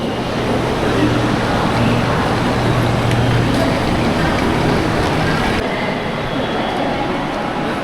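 Busy train platform ambience by a mail train at Mumbai Central station on a rainy day, a loud continuous rumble and wash of noise with faint indistinct voices in the mix.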